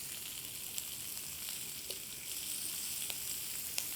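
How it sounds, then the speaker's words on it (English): Shrimp sear in a hot pan with a tablespoon of butter, giving a steady, close hiss of frying with scattered sharp pops and crackles throughout and no talking. "got a nice hot pan with a tablespoon of butter in. Just gonna go down and sear them 2 minutes on each side"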